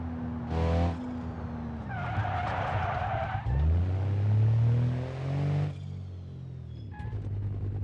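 Car in the driving game BeamNG skidding with loud tire screeches and engine revving, bursts of squealing rising and falling across the stretch, up close with no talk.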